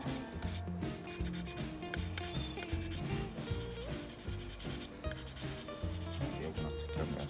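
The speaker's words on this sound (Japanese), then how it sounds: "ヤスリでこうやってる時に、あの角がバンと立ってると抵抗が大きいんですよね" A plastic model kit part for a Tamiya Nissan Fairlady Z34 is filed by hand, giving a steady scraping rub that runs through the whole stretch beneath loud, rhythmic background music.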